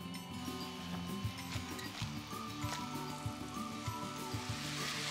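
Celery sweats gently in a pan for a roast squash, rosemary and butter bean soup, giving a faint, quiet sizzle with light scattered crackles over a low pulsing background.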